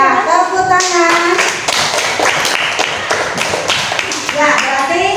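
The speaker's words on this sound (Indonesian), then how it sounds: "Ya, tepuk tangan." Schoolchildren in an Indonesian Islamic religious education class clap their hands in dense, loud applause that fills the room throughout, with voices calling out on top.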